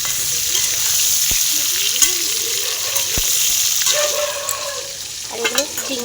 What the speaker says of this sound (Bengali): মাছগুলো লাল লাল করে চিংড়ি মাছগুলো ভাজা হয়ে গেছে।